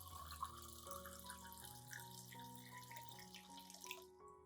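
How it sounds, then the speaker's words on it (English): Clean water, about 500 milliliters, is poured into a container to mix an orchid-care solution, giving a soft, steady, trickling stream, faint and continuous, that cuts off abruptly at the end. "Next, I will add about 500 milliliters of clean water."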